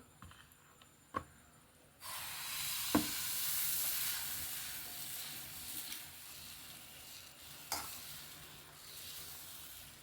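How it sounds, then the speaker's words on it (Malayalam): Loose dosa batter of maida, turmeric and salt hits a hot pan, and a steady, close sizzle rises after a quiet start, with a few clinks of utensils. "ഇനി നമുക്ക് ദോശ ചുട്ടെടുക്കാം"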